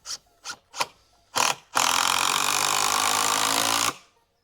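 A power driver sets coarse-thread Carpenters Mate wood screws into timber with a few short whirring bursts, then one sustained close drive of about two seconds that stops abruptly.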